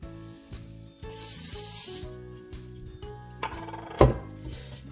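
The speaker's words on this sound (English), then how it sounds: "you're gonna take the pan spray, and you're gonna spray the pan so it doesn't stick" A close aerosol cooking spray hisses onto a pan in a steady burst for about a second, followed by a softer spritz, over a background of music.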